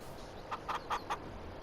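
Chickens in the Farming Simulator 22 video game give four quick clucks in a row, soft and slightly distant, over a steady low background hiss.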